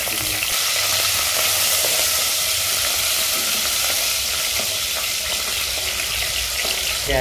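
Black cumin seeds (kalonji) and chili fry in hot oil in a pan for a vegetarian temple-style sabji, giving a loud, steady, dense sizzle that runs unbroken throughout with no voices.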